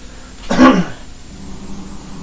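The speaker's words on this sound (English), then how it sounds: "Sorry, got a bit of a cough" A single short, sharp cough close to the mic, then quiet background hum.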